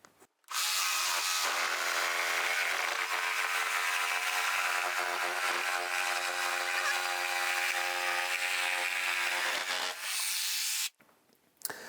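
A power saw cuts through OSB board in one continuous loud, whining pass lasting about ten seconds, starting and stopping abruptly with no talk over it.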